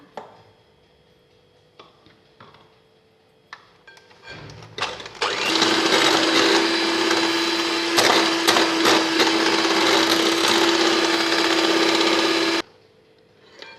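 An electric hand beater whips room-temperature butter for a vanilla cake. After some light clinks it starts up into a loud, steady whirring buzz that runs for about seven seconds, then cuts off abruptly.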